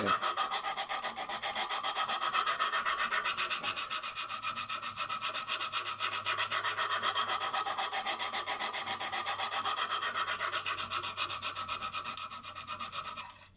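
A Lansky sharpening stone rasps along the edge of a CK Viper knife held at 17 degrees, in steady, rapid back-and-forth strokes with no one speaking.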